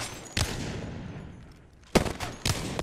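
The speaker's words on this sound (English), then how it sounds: "So here, I'm shooting a target, holding mouse 1." Weapon fire in the video game Apex Legends: a few separate sharp bursts of gunshots with decaying tails between them, played at moderate level with no voices.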